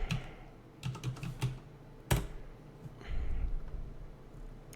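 Keys clatter on a computer keyboard as a place name is typed into a maps search, a short quick burst of close clicks followed by a few louder single presses and faint handling.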